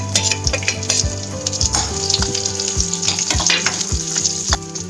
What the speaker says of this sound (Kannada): ಈಗ ಎಣ್ಣೆ ಕಾದಿದೆ, ನಾನು ಸಾಸಿವೆ ಜೀರಿಗೆನ ಹಾಕ್ತಾ ಇದ್ದೀನಿ.